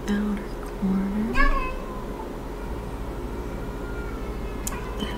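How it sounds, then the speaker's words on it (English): A cat meows a few times close by in a quiet room, short rising calls that stand out above low background noise. "That is my cat."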